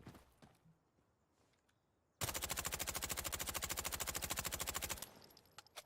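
Rifle fired in rapid automatic bursts in Insurgency: Sandstorm, a loud, fast, evenly spaced stream of shots lasting about three seconds after a quiet lead-in, then cutting off abruptly.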